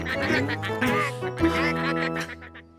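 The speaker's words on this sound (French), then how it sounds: "Ne restez pas là, les canards, allez" Several ducks quack repeatedly and loudly up close, their nasal calls overlapping in quick bursts.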